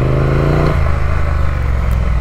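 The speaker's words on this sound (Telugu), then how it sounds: "ఇంజిన్ వాంట్స్ టు రేవ్, కాకపోతే ఇంజిన్ ఏమైందంటే పవర్ కట్ ఆఫ్ చేసేస్తుంది ఇమీడియట్గా" Motorcycle engine revving hard and close, its steady drone suddenly dropping in pitch as traction control cuts power, then continuing at a lower, rough idle-like tone.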